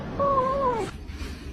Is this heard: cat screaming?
yes